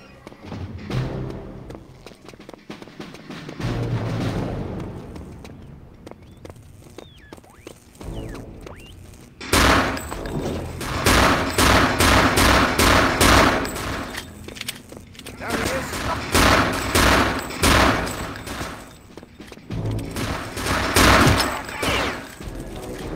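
Gunfire in the Return to Castle Wolfenstein VR game, rapid bursts of loud shots that come in clusters, densest in the second half, with a player talking between volleys.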